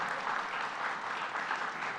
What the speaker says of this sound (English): Let's give another round of applause to Athena